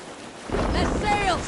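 A sailing ship at sea in Assassin's Creed Valhalla: a quiet start gives way to a loud, steady rush of wind and water, with faint tonal cries drifting over the top.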